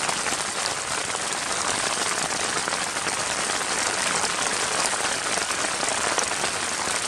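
Steady, dense rain falls on a mountain camp, a constant close hiss of drops on surfaces with no break across the whole stretch.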